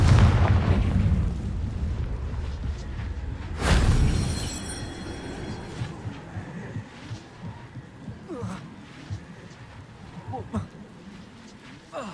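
A Confringo fire spell bursts in the Hogwarts Legacy video game, with a loud booming explosion near the start that gives way to crackling, rumbling debris and smaller scattered impacts fading out.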